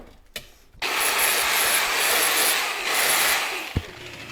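Sanding or grinding rounds off the chopped corners of a Harley Sportster fender, a steady abrasive rubbing that runs close and loud for about three seconds after a brief pause, then stops with a clunk.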